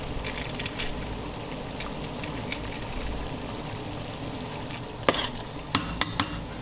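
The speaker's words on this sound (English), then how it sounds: "The sauce as we kept it, it's almost boiling now, but it needs to boil a little bit more" Sauce nearly boiling in a pot, a continuous close sizzling bubble with occasional scraping stirs, ending in a few sharp clinks of a utensil against the pot.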